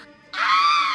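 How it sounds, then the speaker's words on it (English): A witch lets out a single sudden, loud, high shrill scream as a Halloween story sound effect, rising abruptly after a quiet moment and holding steady. "The witch screamed."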